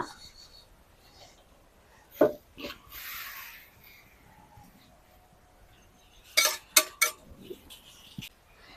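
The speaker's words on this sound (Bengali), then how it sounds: "তেলটাকে আমি সিল পাটাতে গুঁড়ো করে নিচ্ছি" Roasted sesame seeds ground by hand on a stone grinding slab for til pitha: scattered rough rubbing and scraping strokes with brief gritty bursts, near and fairly quiet, with pauses of near silence between.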